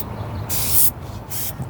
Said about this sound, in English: It's got such a wide spray though.